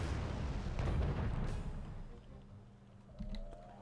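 Heavy 23mm autocannon fire in the Wargame AirLand Battle game, a dense volley of rumbling booms and cracks that fades into a low tail, followed by a smaller distant thump.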